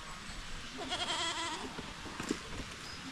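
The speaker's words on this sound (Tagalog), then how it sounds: "Balikin natin sa loob yung ating kambing na nakalabas" A goat that has slipped out of its pen bleats in a wavering, quavering call in the middle of the clip, fairly faint and alone against farmyard background noise.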